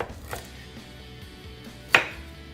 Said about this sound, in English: So I cut them nice and thin.